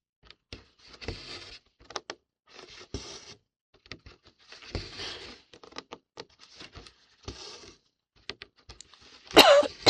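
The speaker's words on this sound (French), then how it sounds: "Je tousse." A person coughs several times in short bursts, close and fairly quiet, with rustling of clothing between coughs and a louder scrape near the end.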